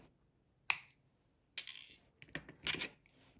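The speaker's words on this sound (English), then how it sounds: "we're going to trim the end right about there" Cutters snip the end of a beading wire while making a wire-wrapped ring: one sharp, close snip, followed by soft clicks and light handling rustles in a quiet room, no talking.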